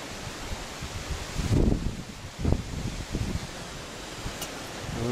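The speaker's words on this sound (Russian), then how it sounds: "Ветер порывистый." Wind gusts rush and buffet past in uneven surges, with a stronger blast partway through and a rough, rustling hiss throughout.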